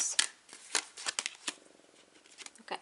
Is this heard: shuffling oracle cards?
yes